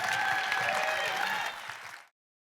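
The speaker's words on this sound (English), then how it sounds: "give them a big round of applause" An audience in a performing arts centre applauds after a film screening at an a cappella film festival, steady dense clapping for about two seconds before it cuts off abruptly into silence.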